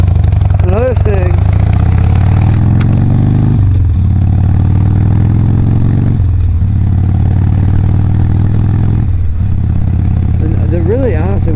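A motorcycle engine drones steadily while riding at night, loud and close, with the revs dropping and climbing again several times; a voice can be heard talking over the engine.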